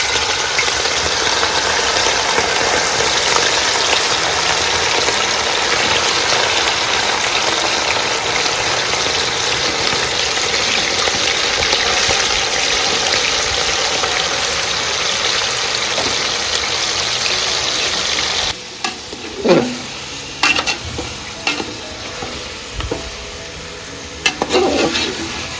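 Chicken pieces dropped into hot oil for chicken pachadi, two kilograms in half a litre of oil, a loud, steady roaring hiss that cuts off abruptly, followed by scattered clatters and quieter frying.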